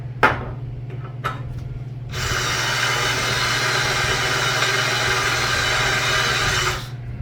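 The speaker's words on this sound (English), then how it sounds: "putting a little bit of this on there saves your bit and makes the drilling go faster" A few sharp knocks, then a power drill bores through thick steel plate, lubricated with cutting fluid, in one long steady grinding burst before winding down, loud and close over a low hum.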